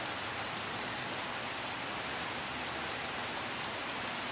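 Steady, dense rain pours down before 6 a.m. in barangay San Antonio, Misamis Oriental, a constant even hiss of drops on surfaces with no voices and no letup.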